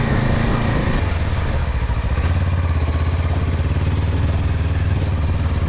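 A Kawasaki KLE 500 motorcycle engine drones steadily at about 2000 RPM in first gear climbing uphill, a constant close-up thrum that holds its pitch as the bike keeps pulling.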